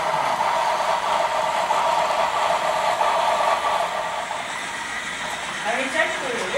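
An HO scale model Shay steam locomotive runs on track with a continuous close whirring, rumbling hiss of a small motor and gears, steady throughout with slight shifts near the end.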